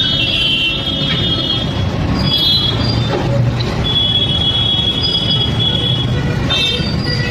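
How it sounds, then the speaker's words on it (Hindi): A freight train carrying JCB bulldozers rolls along a railway track near Siliguri, a loud, continuous close rumble of wheels on rails with thin metallic squeals riding above it throughout. "किसी ने वीडियो बनाया है रेलवे ट्रैक पर, मालगाड़ी पर।"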